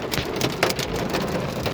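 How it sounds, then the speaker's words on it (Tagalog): Heavy rain mixed with hail pelts a car during a storm in Adelaide, South Australia, a dense steady patter with sharp clattering impacts on the windshield and roof. "Lakas yung ulan eh."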